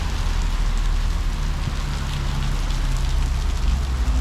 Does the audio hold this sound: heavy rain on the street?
yes